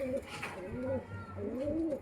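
Madras pigeons coo in soft, rolling phrases, close by, with a low murmur of background noise and no clear talk.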